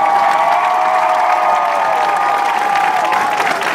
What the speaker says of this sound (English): Let's give a great Trojan applause for Big John Mangum Sr.